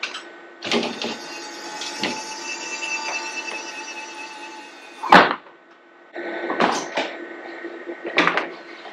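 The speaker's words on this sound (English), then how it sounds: "I want to go ahead and release the door so that it closes" A mechanical clunk and latch snap mid-clip as an RV camper entry door is released and swings shut, surrounded by steady background hum and a few other knocks and rattles.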